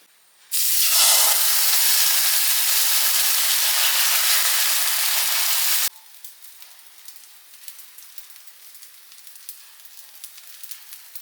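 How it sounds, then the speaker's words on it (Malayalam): Tea boils in a pot on a morning stove with a loud, steady hiss that cuts off abruptly and leaves a faint, crackling simmer. "ഇതാ ചായ ഇവിടെ തിളച്ച് വരുന്നുണ്ട്"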